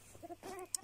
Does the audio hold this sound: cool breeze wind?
no